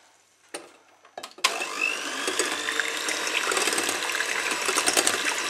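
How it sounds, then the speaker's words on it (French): A warm mixture is poured onto four eggs for a pineapple Yule log: a few soft knocks, then a steady, close rushing pour that continues unbroken to the end, with no talking. "On va plonger maintenant ce mélange dans nos 4 œufs."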